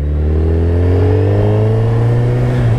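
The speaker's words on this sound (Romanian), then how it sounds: "mi se pare o motocicletă faină" 2009 Suzuki Hayabusa motorcycle engine revving up close, a loud, steady rising drone with strong harmonic whine climbing smoothly over a few seconds, no talk.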